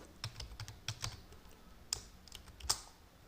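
Keys on a computer keyboard are tapped while code is entered, a quiet, close run of separate clicks at an uneven pace, with a couple of sharper strokes standing out near the end.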